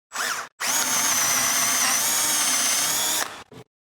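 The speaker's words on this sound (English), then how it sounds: "With the 1/4-20 hole drilled in the hat" A power drill whines loudly up close as it bores a 1/4-20 bolt hole through a ball cap, a short burst and then a sustained run of about two and a half seconds before stopping.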